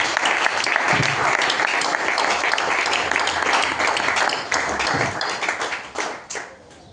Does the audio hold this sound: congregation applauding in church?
yes